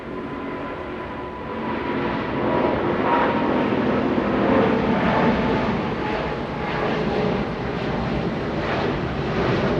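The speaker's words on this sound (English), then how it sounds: "Getting a move on, lifting off quite early on 25 right." A Boeing 777-200, delivered in 1998, taking off from runway 25 right at Los Angeles International Airport. Its engines give a loud, sustained roar that swells and rolls steadily, with no talk over it.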